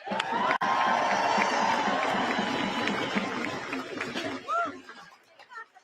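A crowd at a Muslim American Society of Brooklyn protest rally in New York cheers and shouts, a loud burst of voices that trails off into scattered calls and chatter.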